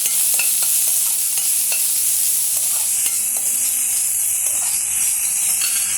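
Chopped onions and two green chillies frying in a pan for a mushroom curry, with a steady broadband sizzle throughout and occasional spoon-stirring scrapes, close and fairly loud, no talking.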